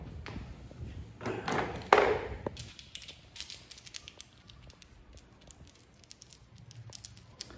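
Metal parts of a bolted flange clink and tap while it is taken apart, with a burst of rustling handling followed by scattered light metallic pings and knocks, close and fairly quiet.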